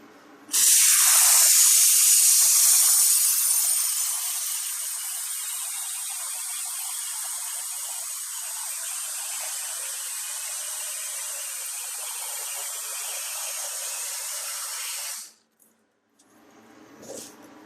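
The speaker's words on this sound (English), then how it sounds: "I'm going to go ahead and spray the walls here" Spray foam insulation blasts onto greenhouse walls from a fresh nozzle, a loud sharp hiss at first that settles into a steady, softer continuous spray, close by, then cuts off near the end.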